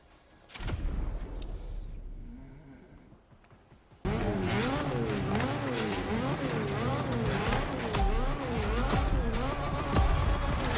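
A Mazda RX-8 races in The Crew Motorfest with a steady, loud engine drone that rises and falls in pitch through gear changes and turns. A quieter stretch opens the run, then a sharp jump into sustained, full-throttle revving with some tire noise.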